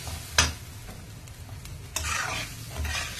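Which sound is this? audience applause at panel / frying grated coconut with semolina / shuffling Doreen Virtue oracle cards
frying grated coconut with semolina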